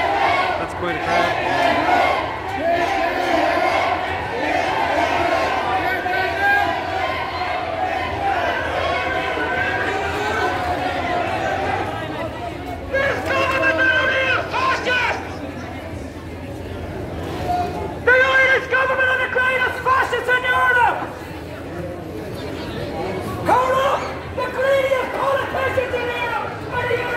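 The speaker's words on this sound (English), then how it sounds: "That's quite a crowd." A large crowd of men, women and children chatters and calls out in a continuous loud murmur, with louder voices rising in several stretches.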